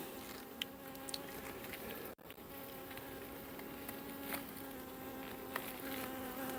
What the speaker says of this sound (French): Une abeille d'une ruche à côté qui vient.